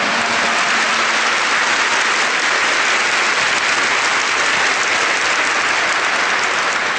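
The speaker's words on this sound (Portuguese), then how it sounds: "Aplausos para Ele." A church congregation claps together during a Portuguese-English sermon by a priest, a thick, steady wall of applause that stays loud from start to finish.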